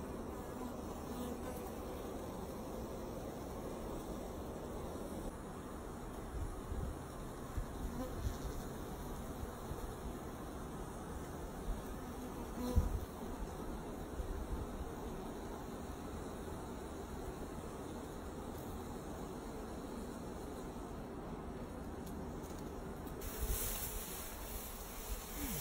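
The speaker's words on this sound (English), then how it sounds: "Look at all the bees, look at the way they drink up the stuff" Bees swarm and buzz steadily around an opened honey container among the beehives, a continuous close drone of many insects that holds at an even loudness throughout.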